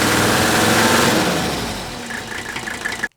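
Rough-idling car engine in a vehicle returning after 20 years off the road, a loud uneven rumble with knocking and rattling that fades slightly before cutting off abruptly.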